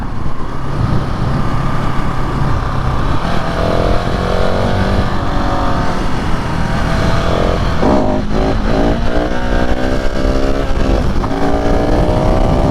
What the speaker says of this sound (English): As far as wheelies, as you can tell, this thing will wheelie like it's nothing.